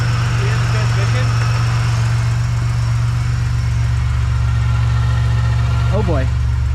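A supercharged Pontiac Bonneville SSEi engine idles with a steady, loud low-pitched drone and a smooth even pulse, running close by and unchanging throughout.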